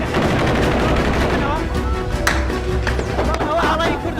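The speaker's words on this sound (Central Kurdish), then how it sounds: "ئێستا من ناوچەیەکە خەڵکی لێ نییە دەنگی تەقە بۆ هەردوو لا بوو تەقە" Gunfire exchanged between two sides in Tuz Khurmatu, Iraq, dense ongoing crackling shots and bursts heard over a constant loud rumbling background, with a reporter talking throughout.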